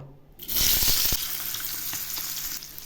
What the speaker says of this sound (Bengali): এই আলুগুলো খুব ভালো করে ভেজে নেব